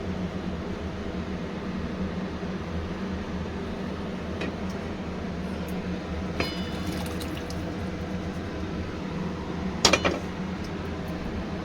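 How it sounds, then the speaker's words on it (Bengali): Water poured steadily into a cooking pot of Gobindobhog rice khichuri with rinsed spices, a soft continuous wash of liquid noise with a few faint clinks near the end, no voices. "দিয়ে দিলাম জল।"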